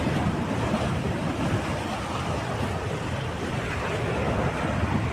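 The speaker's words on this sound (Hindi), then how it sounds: "नदी के मलबे की तेज धार में आप ये आवाजें सुने" A debris-laden river torrent after a cloudburst in Kargil, a dense, steady roaring rush of water that fills the whole clip at full loudness with no pauses and no voices.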